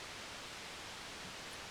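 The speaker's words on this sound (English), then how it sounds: "so you can hear what white noise sounds like." Synthesized white noise from VCV Rack plays through an opening filter as a steady, even broadband hiss, constant and unbroken, faint in level with no other sounds.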